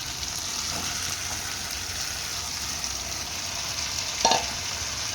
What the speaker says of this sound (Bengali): চলো আলুটা দিয়ে আবার ভাজি ভালো করে, ভাজি কষাই আর কি, একটু ভালো করে কষাই